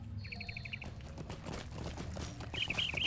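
Horse hooves clip-clop in a quick, even rhythm while riding through the LotRO game world, with a bright jingling patter near the start and end over a low ambient bed.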